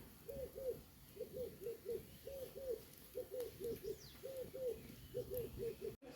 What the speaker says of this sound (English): We can hear the doves in the background.